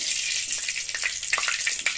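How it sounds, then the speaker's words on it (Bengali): A papad fries in a pan over low heat, a constant fine hissing sizzle close by, with light crackling pops scattered through it. "গ্যাসের আঁচটা খুব কমিয়ে দিয়ে ভাজতে হবে নাহলে পাঁপড়টা পুড়ে যাবে"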